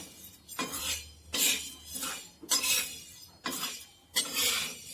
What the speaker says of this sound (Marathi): छान अशी ज्वारी भाजत आलेली आहे.